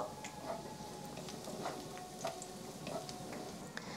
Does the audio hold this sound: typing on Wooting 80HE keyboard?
no